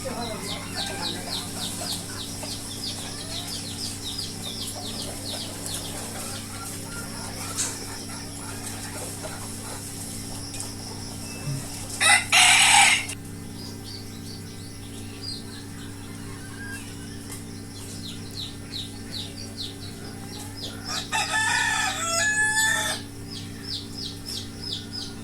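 Chickens on a poultry farm cluck and chatter steadily while being given feed and water, with brief louder squawks or a crow-like call breaking out twice over a constant background hum.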